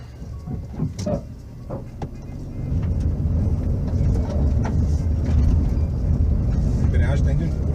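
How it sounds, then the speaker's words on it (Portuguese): A Volkswagen Up TSI engine strains up a muddy slope with a slipping clutch, a loud low drone rising in level after a few seconds and holding steady, with people talking over it. "A embreagem está indo pro saco e o carro não sobe."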